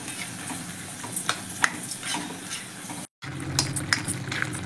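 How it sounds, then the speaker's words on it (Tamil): Radish curry with added water simmers and sizzles in a pan while a spoon stirs it, giving close scraping and bubbling sounds with a brief break near the end. "நல்லா கலந்து விட்டு ஒரு கொதி வரட்டும்."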